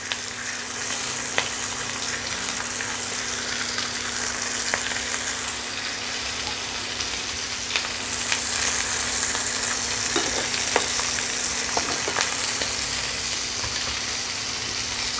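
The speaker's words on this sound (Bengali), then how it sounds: "দিয়ে দিচ্ছি কালো জিরে ফোড়ন, দিয়ে দিচ্ছি কাঁচা লঙ্কা" Hilsa fish fries in hot oil with nigella seed tempering and green chillies, a loud continuous sizzle that fills the whole stretch, with small pops and crackles scattered throughout, close and steady.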